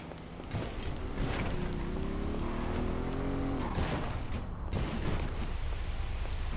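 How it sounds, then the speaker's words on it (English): A motorcycle engine in a video game drones loudly and steadily, its pitch climbing and then dropping as it revs, with rough mechanical noise throughout. "I hate the noises that the fucking motorcycles make"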